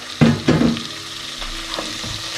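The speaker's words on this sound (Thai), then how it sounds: "ผมก็จะเริ่มจากการผัดหอม กับกระเทียมก่อนนะครับ ให้หอมแล้วก็ผมจะใส่ คอหมูลงไปนะครับ" Shallots, garlic and pork neck stir-fry in a hot pan: two loud scraping stirs near the start give way to a steady sizzle, close up and without speech.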